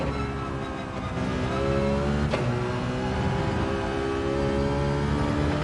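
A Citroen race car's engine revs hard and steadily, loud and close, with no pause and no voices over it.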